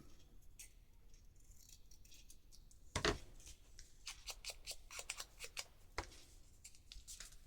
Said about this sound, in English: I'm actually going to cut that straight.